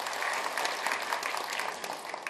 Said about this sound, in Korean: 여러분 다시 한 번 더 큰 박수 부탁드리겠습니다